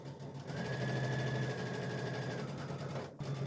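A sewing machine runs steadily down a pillowcase seam, a continuous close hum and rapid needle chatter that carries on alone without pause and dips briefly near the end.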